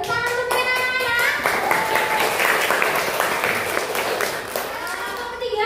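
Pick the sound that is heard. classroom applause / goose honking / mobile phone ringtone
classroom applause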